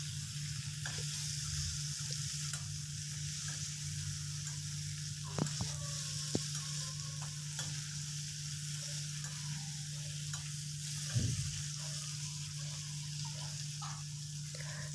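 Chopped tomato sautés in oil in a pan for coconut chutney, a steady hissing sizzle with occasional soft ticks and scrapes of a stirring spoon, quiet and continuous with no talk.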